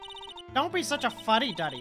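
A phone ringtone gives a short burst of rapid electronic pulses at the start, then cuts off as a voice speaks loudly over a low hum in the Phoenix Wright: Trials and Tribulations game.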